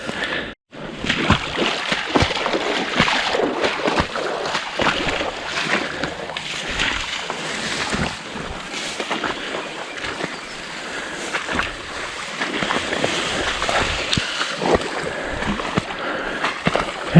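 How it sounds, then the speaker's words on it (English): Someone wading through water in overgrown, viney terrain, with repeated sloshing and splashing steps, close and fairly loud, in an uneven rhythm over the whole stretch. "It's easier just walking through the water here."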